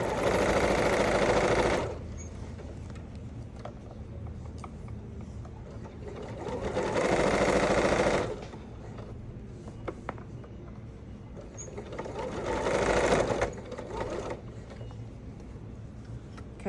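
Sewing machine stitching a fabric bowl in three loud bursts of rapid mechanical whirring separated by quieter pauses, close up and without talking.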